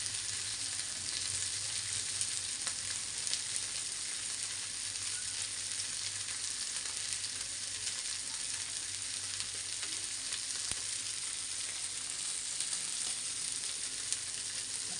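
Curry leaves and fish fry in hot oil in a pan, giving a steady, dense sizzle and crackle that runs unbroken for the whole stretch, close and even, with no voices.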